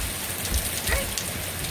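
Heavy rain pours steadily during a thunderstorm, a dense close hiss of drops hitting surfaces with a few faint background voices.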